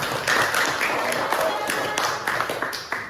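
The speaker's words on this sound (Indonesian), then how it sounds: "beri tepuk tangan benar nak" A class of pupils applauds during a teaching practice lesson, giving a loose burst of scattered hand claps that carries on with uneven rhythm, mixed with background chatter from the children.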